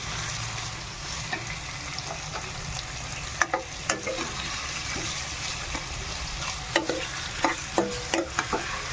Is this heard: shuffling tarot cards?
no